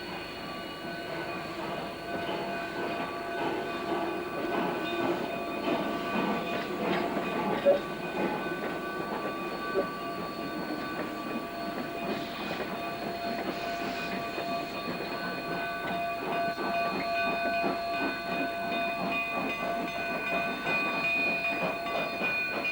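A pair of Baldwin K36 2-8-2 steam locomotives haul a narrow gauge train toward Cumbres Summit on the former Denver and Rio Grande Western line, with steady rolling rail noise, hissing steam and a sustained whistle tone throughout.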